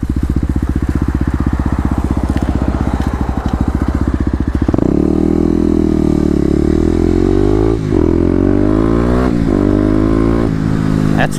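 Kawasaki KLX250 dual-sport motorcycle with new modifications idling with a rapid single-cylinder putter, then revving hard and accelerating loud and close, its pitch climbing through several gear changes.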